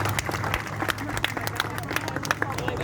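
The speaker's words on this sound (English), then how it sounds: "Like a big round of applause for her family loaning us this vehicle and doing this today." Crowd applause at an outdoor Back the Blue rally, a dense burst of clapping with a few louder claps mixed with crowd murmur.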